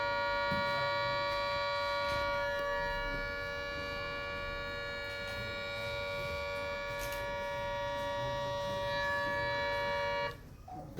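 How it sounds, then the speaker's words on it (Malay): A civil defence all-clear warning siren sounds as a steady, unbroken tone held at constant pitch for about ten seconds, loud and alone, then cuts off abruptly near the end. "This is sound for the all clear warning."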